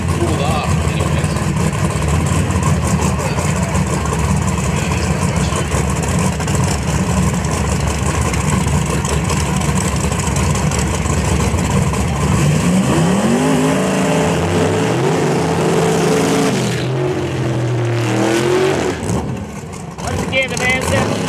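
Drag racing cars at Toronto Motorsports Park during a Canada Heads Up Shootout event, nitrous against turbocharged. A loud, continuous engine roar builds, and rising, sweeping engine tones come partway through as the cars launch and pull away, with voices mixed into the noise.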